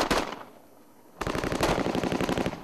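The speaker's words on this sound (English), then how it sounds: "After heavy gunfire" Heavy automatic gunfire from Marines in a firefight with attackers among compounds in Afghanistan, a loud burst, then a brief lull, then sustained rapid bursts of shots close by.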